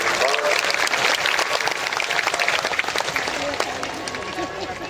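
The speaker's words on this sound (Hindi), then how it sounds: "बाबा कई बार जोरदार ताली बजाकर साधुवाद।" Loud, vigorous applause from a large audience at a Shiv Mahapuran katha gathering in Sakri, Maharashtra, a dense continuous clapping that fills the whole clip.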